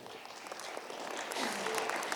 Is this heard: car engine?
no